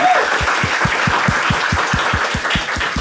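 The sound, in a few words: audience applause for two people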